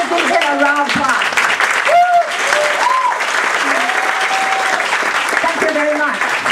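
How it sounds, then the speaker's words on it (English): A round of applause from a convention audience, steady and loud throughout, with a voice speaking over the clapping. "Let's give them a round of applause."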